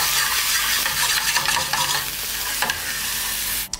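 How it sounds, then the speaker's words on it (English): Beef meatballs sear in a hot pan with a steady, loud, close sizzle that fills the whole stretch, broken by a few stirring scrapes and ending in a sudden drop near the close, with no talking. "I just wanna get some nice color and sear off that beef on the outside."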